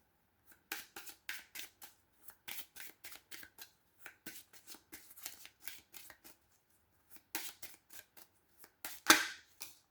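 Tarot cards are shuffled in quick bursts of crisp riffling flutters, separated by short pauses, close and fairly quiet.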